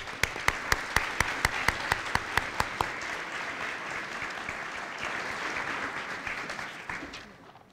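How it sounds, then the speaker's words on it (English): At a business festival graduation ceremony, a crowd applauds warmly while one nearby clapper beats a sharp, regular rhythm at first; the dense clapping continues and then tapers off at the end. "we really owe them a huge round of applause"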